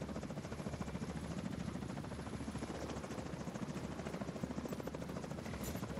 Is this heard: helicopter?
yes